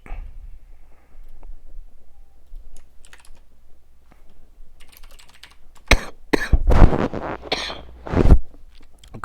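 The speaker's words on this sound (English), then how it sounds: "that coughing fit just whacked me out of everything" A person at a computer breaks into a coughing fit, several sharp loud coughs bursting out in the latter part after quieter shuffling and faint keyboard-like clicks.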